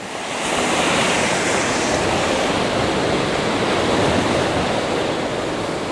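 Waves crash against coastal rocks with blowholes in a steady, loud, roaring wash of surf that builds after a brief quiet start and stays dense throughout, with wind noise mixed in.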